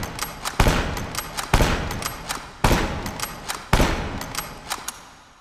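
Bolt action rifle in the H3VR virtual reality shooting game fired rapidly: four loud, sharp reports spaced about a second apart, each followed by bolt cycling clicks, with no talking.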